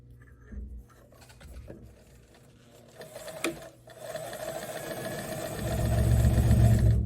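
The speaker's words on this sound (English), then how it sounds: "We're going to edge stitch." A sewing machine edge stitches a seam on wide leg pants, starting with scattered handling sounds, then building into a steady, loud whirr that grows stronger toward the end.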